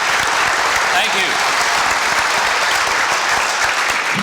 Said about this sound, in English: it's more applause than I deserve, but not as much as I wanted